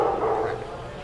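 A dog barks or yips briefly indoors at a casual gathering over beer, with room noise and voices around it.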